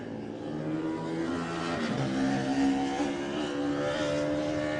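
A classic Honda racing motorcycle ridden by James Hillier at the Classic TT lightweight race passes by, its engine note rising and swelling loud as it approaches, then holding a strong revving drone.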